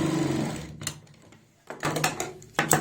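A sewing machine stitches the seam of a salwar in short bursts, its fast mechanical whir starting and stopping with brief pauses in between, close and loud.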